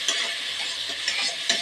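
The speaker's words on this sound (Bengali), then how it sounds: "তো গরম হওয়ার পরে এই দিয়ে দিলাম ডাল।" Lentils fry briefly in hot oil, a short burst of soft hissing sizzle with a few light stirring scrapes, close and moderate, with no speech.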